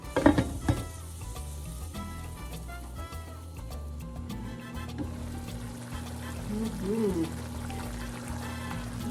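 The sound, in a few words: pinakbet vegetables simmering in pot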